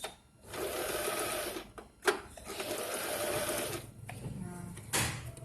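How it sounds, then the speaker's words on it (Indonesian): A Butterfly JH 5832A sewing machine stitches in steady bursts of close, busy mechanical whirring, stopping briefly between runs with short pauses near the middle and end. "Setelah itu kita jahit, lalu tekan, lalu tekan lagi."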